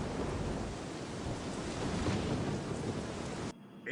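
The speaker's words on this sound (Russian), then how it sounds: "Яростный шторм обрушился на нас." Violent storm at sea with rolling thunder and heavy rain, a loud continuous roar of downpour and rumbling that stays dense throughout, then cuts abruptly to near quiet just before the end.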